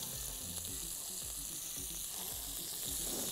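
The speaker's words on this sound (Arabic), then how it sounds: "انا بسخن هنا الجريل كويس كده، اجرب احط هي التشه دي بقى" Meat sizzles steadily on a hot grill, a loud continuous frying hiss with crackles and a faint low thumping beneath, no talking.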